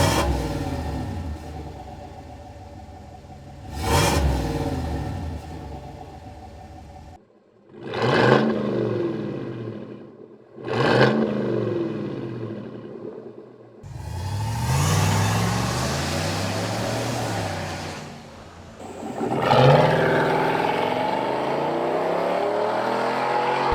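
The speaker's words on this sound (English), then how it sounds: "the exhaust note of this truck. It is absolutely rowdy" A 2021 Chevrolet Silverado pickup with bolt-on exhaust upgrades revs loudly and aggressively, several sharp throttle blips followed by longer sustained roaring revs, close and with no talk.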